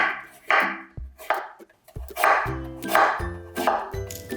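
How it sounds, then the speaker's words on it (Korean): A knife slicing sweet pumpkin into thin flat pieces on a cutting board, a series of sharp, close chopping knocks at an uneven rhythm with short pauses between strokes. "얇게 납작납작 썰어주세요"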